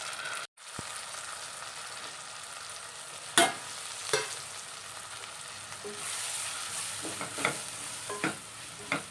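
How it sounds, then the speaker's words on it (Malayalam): Spice powders of chilli, coriander and turmeric being stirred and sautéed in a pan for a sardine curry, with a steady close sizzle broken by scraping stir strokes and light clanks. "ഒന്ന് വഴറ്റി കൊടുക്കാം."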